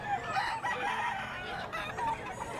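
A tornado hatch gamefowl rooster crows and clucks amid the bustle of a poultry market in Bocaue, Bulacan, the calls fairly close over constant background chatter.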